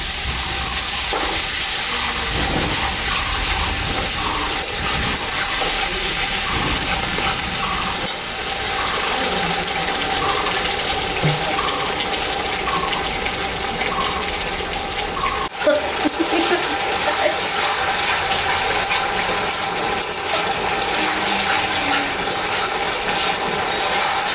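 Water poured over cooking spices in a hot pan for a Bengali dhokar dalna curry, a steady loud sizzling hiss that fills the whole stretch with faint clinks, and a voice speaking underneath.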